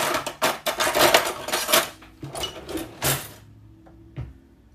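A knife scrapes and taps against macaron batter on a tray as mango macarons are shaped, giving a close, busy run of light clicks and scrapes that thins out near the end.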